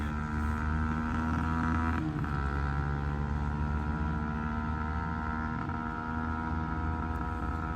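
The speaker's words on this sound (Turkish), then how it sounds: "Hala egzoz sesi buraya kadar geliyor" A steady engine drone hums continuously throughout, a low droning motor sound with no talking, distant motorcycle exhaust noise.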